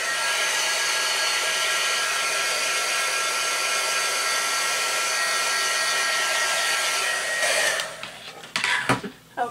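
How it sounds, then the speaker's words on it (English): A heat tool blows steadily and loudly to dry an art journal page, a continuous airy roar lasting about eight seconds before it cuts off, followed by brief handling noises. "For the sake of time, I have a heat tool."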